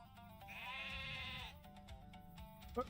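A single drawn-out sheep bleat in the video game The Lord of the Rings Online, wavering and nasal, rings out clearly over a quiet background, followed by a brief soft knock.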